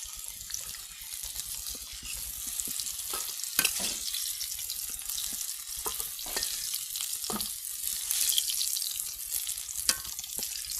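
Potatoes fry in oil in a pan on a village clay stove, giving a continuous bubbling sizzle with scattered scraping and clinking from stirring, fairly close and without talk.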